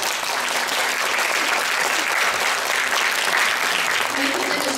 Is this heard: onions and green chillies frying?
no